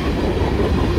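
A CSX freight train at the Newburgh oil terminal rolls past close by, its wagons giving a loud, continuous rumble with faint clickety-clack from the wheels on the rails.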